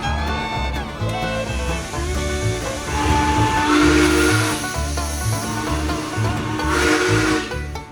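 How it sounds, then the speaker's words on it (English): The steam whistle of Sierra Railway No. 3, a steam locomotive at Railtown 1897, sounds loud and close in sustained blasts over rumbling, hissing steam and a rhythmic chuffing beat. "With 2 blasts of the whistle, we begin our journey back to Railtown 1897."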